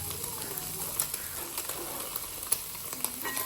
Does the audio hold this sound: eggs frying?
yes